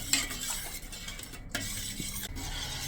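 A spoon stirs a boiling coconut pudding mixture in a pan, scraping steadily and closely with a soft bubbling sizzle underneath and a few brief clinks against the metal.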